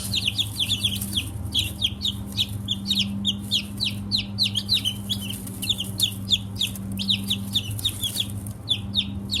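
Newly hatched chicks cheep in rapid, high peeping bursts throughout, close and steady, over a constant low hum, with no talking.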